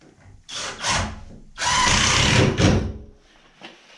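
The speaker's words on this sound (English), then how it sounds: "if I can find my drill. I'll put another screw down here." A power drill whirs in two short bursts, then runs longer as a screw is driven in, ending with a quick final pulse.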